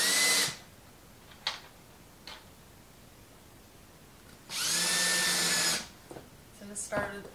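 A power drill drives screws into 2x4 lumber in two loud, close bursts about half a second and a second long, separated by a few brief clicks and taps.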